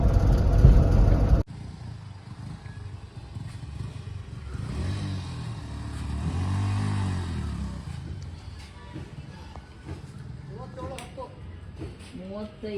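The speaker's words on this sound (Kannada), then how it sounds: "ಲೋಡ್ ಗಾಡಿ ನೋಡಿ ಯಾವ ಥರ ಹೋಗ್ತೈತೆ" A heavily loaded 12-ton goods truck climbs uphill on a ghat road, its engine a steady, strained drone that swells and fades. It runs continuously and close, with a short burst of noise at the start.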